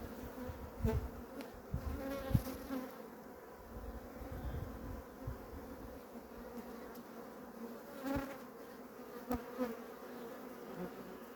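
Honey bees from a weak, varroa-damaged colony buzz close around an opened hive, with a continuous drone and individual bees swelling past in brief louder passes. Scattered light knocks and handling sounds break through.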